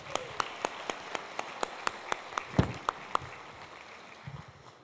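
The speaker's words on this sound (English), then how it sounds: "A big round of applause." Sparse applause at a school board of education meeting, a handful of sharp, evenly spaced individual claps ringing in a quiet room, with a brief thump midway and a faint low noise near the end.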